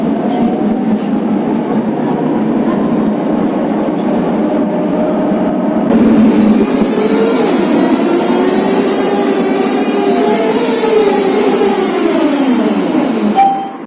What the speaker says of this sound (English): they've got a classic Eastern European DC pulsing drive, which sounds absolutely epic